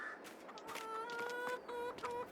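Chickens cluck and squawk on a farm in the Farming Simulator 22 video game, a busy run of repeated clucks close by and fairly loud throughout.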